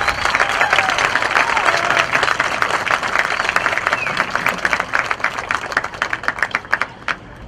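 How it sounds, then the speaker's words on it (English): Audience applause for band students at a school spring music concert in a stadium: dense, steady clapping that thins toward the end into separate sharp claps, loud and close, with no speech. "Let's give these students a round of applause."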